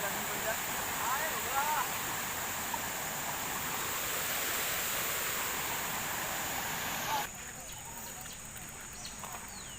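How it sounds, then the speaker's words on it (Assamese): The flooded Tihu river rushes past in a steady broad roar that sits under the scene throughout. After about seven seconds it drops and thins a little, with faint chirps that may be birds. "এই টিহু নদীৰ পানী কি ৰকম বাঢ়ি গৈছে"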